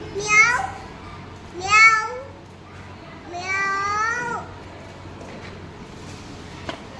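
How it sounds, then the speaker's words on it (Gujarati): A cat meows three times, long drawn-out cries with pauses between, close by and fairly loud, over a quiet room. "Persian cat."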